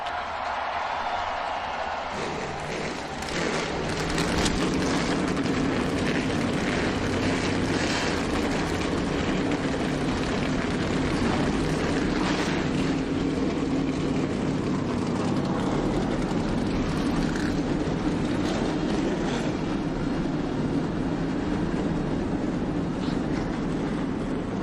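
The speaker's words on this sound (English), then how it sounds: "Gentlemen, start your engines!" Several race car engines fire up together at a NASCAR race at Dover, a dense roaring wall of sound that swells after a couple of seconds and holds steady, loud and continuous, with crowd noise mixed in.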